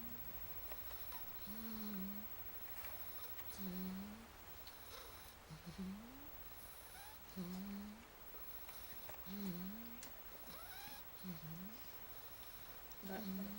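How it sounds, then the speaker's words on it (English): A sleeping female pet snores steadily, with low, rasping breaths repeating roughly every second and a half at close range over a faint background hiss. "She's snoring."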